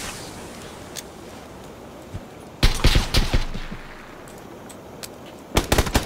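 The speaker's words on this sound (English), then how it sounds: "I'm getting shot at hard, so I'm running." PUBG video game gunfire: a quiet stretch with a few isolated pops, then a loud rapid burst of shots, and another sharp volley near the end, with no voices.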